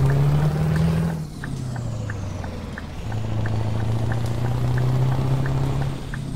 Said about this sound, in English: I love the way this truck sounds